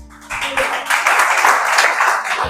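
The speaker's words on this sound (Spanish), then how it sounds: "Den un aplauso al Señor." A church congregation breaks into applause for the Lord during a sermon, a loud, sustained wash of many hands clapping that swells in after a brief spoken moment and carries on steadily.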